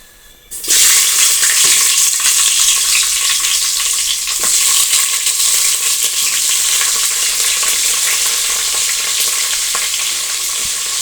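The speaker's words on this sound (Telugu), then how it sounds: "తర్వాత క్యాప్సికమ్ ఫ్రై చేసుకుందాం." Capsicum fries in hot oil after cashews have been fried, giving a loud, steady close sizzle that starts suddenly and continues throughout, with faint stirring and no voices.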